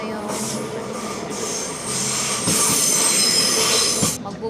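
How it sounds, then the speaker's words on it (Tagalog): A train passing a level crossing in an Arab city park, its wagons rolling by nearby with loud, steady rumble and high wheel squeal that swells toward the end before dropping off. "we have to wait until the train is coming."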